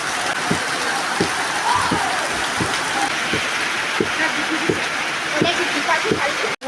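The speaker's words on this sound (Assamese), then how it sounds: "পূৰা বৰষুণ দি আছে" Steady, dense rain hisses throughout, broad and loud, with faint voices underneath and soft repeated knocks at regular intervals from pounding rice for pitha.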